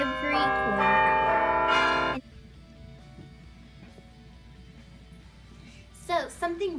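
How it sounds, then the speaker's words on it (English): Parliament Hill tower bells in Ottawa, a 52-bell carillon, ring out with bright sustained tones for about two seconds, then cut off into a quieter ambient background with brief voices near the end. "Because there are 52 bells. And it rings every quarter hour."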